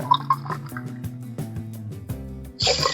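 Water is poured from a glass into soaked basmati rice in a pot for Hyderabadi chicken dum biryani. The close, steady trickle rises in pitch as the pot fills, then ends in a brighter splash.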